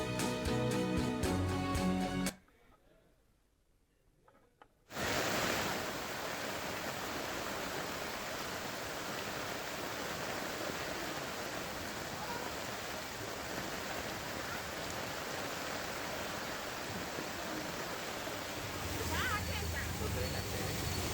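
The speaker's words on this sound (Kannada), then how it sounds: "ಮೇಲಿಂದ ಕೃತಕ ಜಲಪಾತಗಳು ಸೃಷ್ಟಿಯಾಗಿ ಅಲ್ಲಿ ಮೇಲಿನಿಂದ ನೀರು ಬೀಳ್ತಾ ಇರುವಂಥದ್ದು" After heavy pre-monsoon rain in Bengaluru, rainwater pours down from above like artificial waterfalls, a steady rushing wash that begins after a short, nearly silent gap and carries on at an even level to the end.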